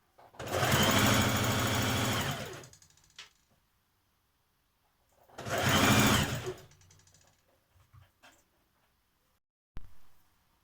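Sewing machine stitching fabric pieces together, two close, loud bursts of rapid whirring stitching separated by a pause, with faint handling clicks between and after.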